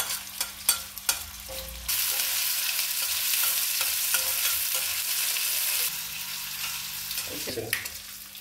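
Chicken pieces coated in chilli powder, coriander powder, turmeric, salt and masala fry in hot oil, a steady loud sizzle running throughout with a few clinks and stirring knocks from the pan.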